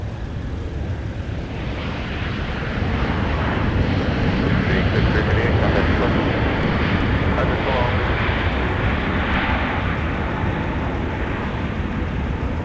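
A Southwest airliner arriving from Chicago Midway onto runway 12 right at a snowy winter airport, heard as a steady, broad jet roar that swells and holds loud throughout, with no break.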